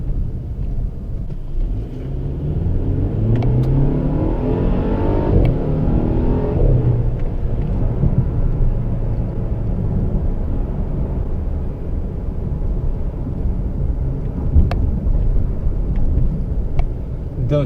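A 2017 Mercedes C200 AMG's engine drones under light throttle in Sport driving mode, heard from inside the cabin as a steady low rumble with rising and falling tones as the revs climb, shift and settle, with no talking.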